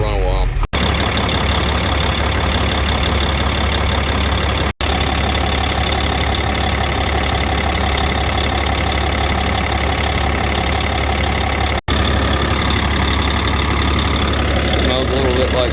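A diesel-smelling engine idles at an auction preview before reaching operating temperature, a loud, steady low rumble with a persistent knock that continues with only brief dropouts.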